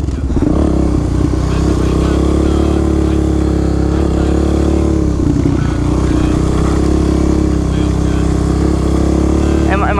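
A supermoto motorcycle engine drones loud and steady throughout while being ridden, with a constant rumble and no clear pauses.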